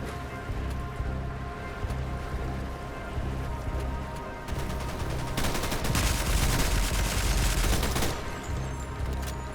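Rapid gunfire in an online shooter game, dense repeated bursts and shots that grow louder and heavier midway, continuing without speech for nearly ten seconds.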